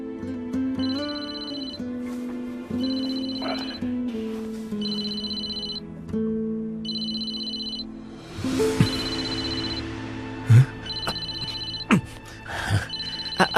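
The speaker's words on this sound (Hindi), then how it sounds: "अरे किसका फोन है? मेरे सामने उठाओ।" A telephone rings in steady repeated bursts over a low hum, with some clattering and movement noises toward the end.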